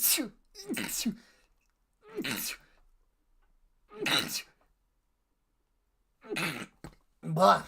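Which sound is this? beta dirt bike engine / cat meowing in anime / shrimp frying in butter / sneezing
sneezing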